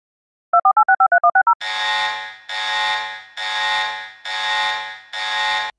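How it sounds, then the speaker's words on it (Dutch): A Dutch NL-Alert emergency warning plays loud and close: a quick burst of eight rapid beeps, then five long, evenly spaced buzzing alarm tones. "Dit is een noodwaarschuwing."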